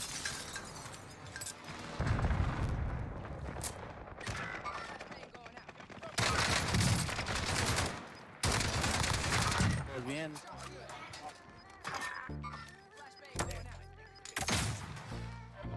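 AK assault rifle fire in the video game Warzone comes in loud, rapid bursts and long automatic strings with gaps between them, mixed with other game effects and a player talking over parts of it.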